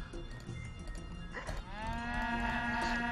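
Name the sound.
cows mooing in the video game Age of Empires 3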